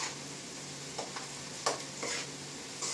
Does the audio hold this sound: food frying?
yes